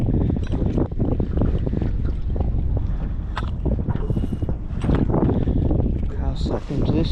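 Strong wind buffets a small fishing boat on shallow Moreton Bay, a loud continuous roar with gusting microphone rumble throughout, plus faint water and hull sounds beneath.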